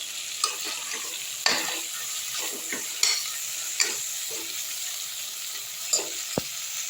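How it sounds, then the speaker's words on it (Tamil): Peas pulao ingredients with a handful of coriander sautéed in a pressure cooker: a quiet background sizzle broken by intermittent scraping and clinking strokes of a spoon against the pot, spaced irregularly, with no voices. "இப்போ நல்லா வதக்கி விட்டுருவோம்."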